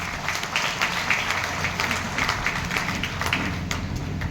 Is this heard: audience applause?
yes